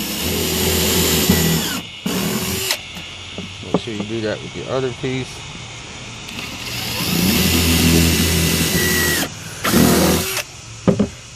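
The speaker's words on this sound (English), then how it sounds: "we'll get ready to drill our pilot holes" A power drill whines in long bursts drilling pilot holes in wood, starting and stopping, with someone speaking briefly between the drilling.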